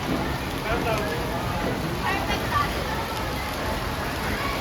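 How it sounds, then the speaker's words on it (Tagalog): Heavy rain pours down in a steady, dense hiss on surfaces nearby, loud and continuous, with people talking over it. "Lakas ang ulan, no?"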